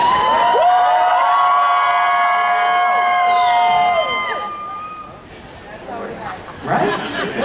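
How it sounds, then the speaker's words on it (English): A loud comic convention crowd cheering and shouting, with high voices and whistles over a dense babble, swelling again near the end. "30 minutes of just yelling and screaming"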